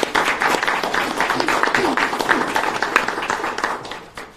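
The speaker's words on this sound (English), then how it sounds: "Please join me in a round of applause" Steady applause from a crowd at an Atlanta mayoral announcement, dense clapping that holds for several seconds before tapering off.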